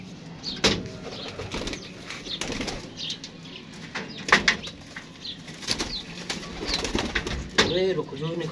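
Pigeons coo softly while wings flap in quick bursts, with someone talking intermittently nearby.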